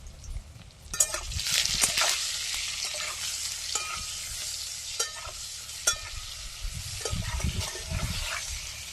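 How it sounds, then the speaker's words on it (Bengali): Eggplant slices fry in hot oil in a pan, giving a steady close sizzle broken by scraping stirs and a few louder pops and spatula knocks. "দেখো আমাদের কিন্তু বেগুন ভাজা হয়ে গেল"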